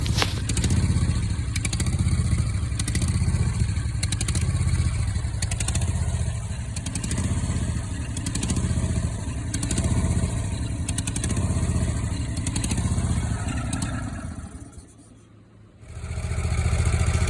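Small engine of a Hustler Super Z 60-inch zero-turn mower running after a motor swap, a steady loud idle with rhythmic clatter, cutting out briefly near the end before picking back up.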